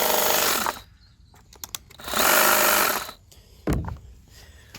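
A STIHL HSA100 cordless hedge trimmer runs in two loud bursts of steady high-pitched buzzing, each about a second long, with quiet clicks and a short thump in between as its buttons and trigger are worked.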